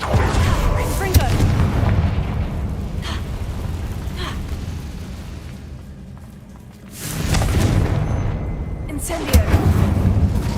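Confringo blasting spells from Hogwarts Legacy on hard difficulty burst in heavy, booming explosions, with a sustained roar, a lull near the middle, then fresh loud blasts.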